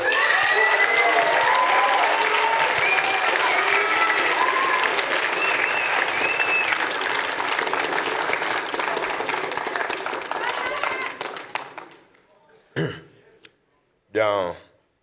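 A high-school eloquence contest audience breaks into loud, dense applause welcoming a 16-year-old speaker, sustained for about eleven seconds before thinning out, followed by a couple of brief coughs or throat clears in the quiet.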